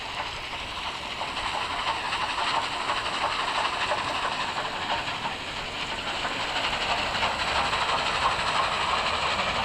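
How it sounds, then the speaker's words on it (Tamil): Train rolling steadily in the Roblox game Dead Rails, a continuous hissing rumble with faint clickety-clack rhythm, moderately loud and unbroken throughout with no talk. "அது மட்டும் இல்லாமல் ட்ரெயின் கொஞ்சம் ஸ்லோவாக தான் போகுது."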